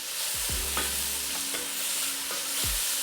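Onions being stirred in a pan for a mixed bean curry: a few close scrapes and clinks of a spoon against metal over a soft, steady sizzle.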